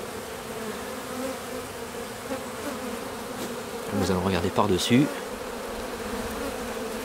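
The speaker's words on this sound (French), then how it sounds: "le bruit est quand même assez important au niveau du vol des abeilles." Honeybees buzz around a beehive in a faint, steady drone, with a louder burst of close wingbeats near one moment as a voice speaks briefly.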